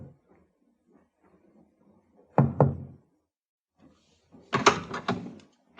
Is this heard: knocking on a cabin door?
yes